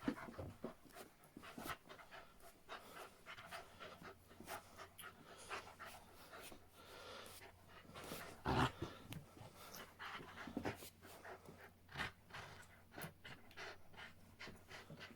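A dog pants quickly and steadily close by, the breathing soft and rhythmic in a quiet indoor space, with a few louder knocks and shuffles in between.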